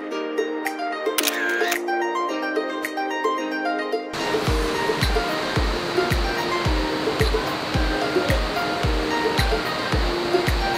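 Gabur Gabur Falls in Peñablanca, Cagayan Valley, a tall waterfall heard as a loud, continuous rushing roar that swells in after a few seconds, with sharp rhythmic thumps and clicks over it.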